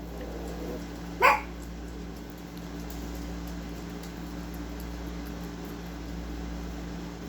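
A dog gives a single short bark at moderate distance, standing out briefly above a steady low indoor hum that continues alone afterward.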